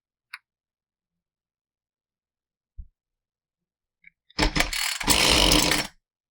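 An Echo CS2511T chainsaw with a carburetor fault that won't rev up. After a few faint clicks and a pause, the engine catches loudly, runs for about a second and a half, then cuts out.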